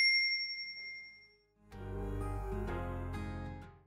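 A notification bell gives one bright, clean ding that rings and decays over about a second and a half, then gives way to louder music.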